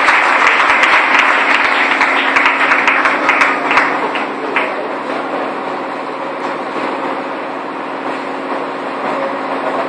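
A church congregation claps in a dense burst of applause during a Sunday service, strongest at first and then thinning into steadier, softer clapping that carries to the end.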